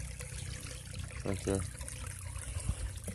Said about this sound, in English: Florida's biggest waterfall.